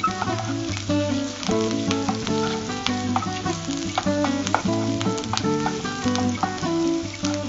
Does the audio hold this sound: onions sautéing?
yes